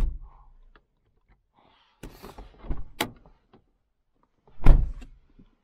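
A car door unlatching and swinging with creaks and clicks, then a solid thump as it shuts, close by with no voices.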